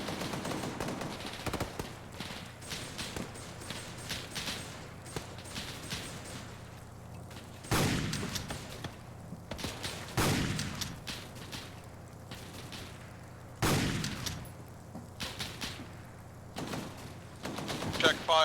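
Video game gunfire in an escaped-prisoners firefight, with scattered shots and several loud, close bursts breaking out across the stretch under steady background noise and occasional voices.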